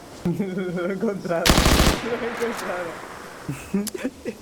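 A burst of rapid automatic gunfire in a video game PvP match, loud and close for about half a second, with people talking before and after it.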